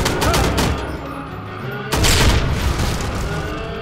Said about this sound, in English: Exploding barrels.